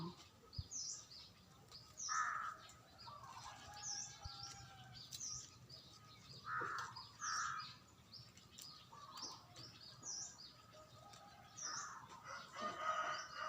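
Chickens in a farmyard coop, with repeated clucks and calls from hens and a rooster, small birds chirping high in the background, moderately close, with no talking.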